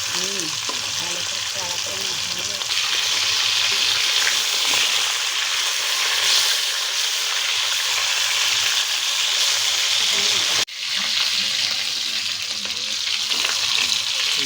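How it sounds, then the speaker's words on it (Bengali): Fish fried crisp in hot oil for Bengali fish kalia, a loud steady sizzle running close throughout with occasional stirring and a sharp knock near the end, a voice briefly audible beneath it. "মাছগুলো ভেজে এইভাবে তুলে নিতে হবে, ভালো করে কড়া করে ভেজে তুলে নিতে হবে।"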